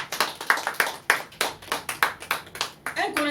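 A church congregation claps loudly and rhythmically in praise, a brisk, even run of hand claps, with a voice briefly heard near the end.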